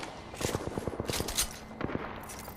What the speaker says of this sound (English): Target over there. Firing.